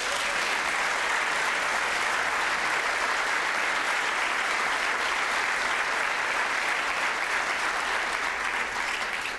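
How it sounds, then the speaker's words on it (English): An audience at a brunch awards event gives a steady, even round of applause for a newly named distinguished professor, dense clapping that holds at a constant level throughout. "Please join me with a round of applause for the new IIANC Distinguished Professor, Dr. David C. Marlette."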